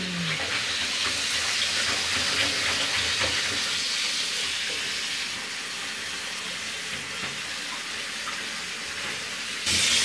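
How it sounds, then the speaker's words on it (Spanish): Tap water runs steadily into a bath being filled for a baby's first bath, a continuous broadband rush close to the listener with a brief clunk near the end and no talking. "Voy a poner el agua."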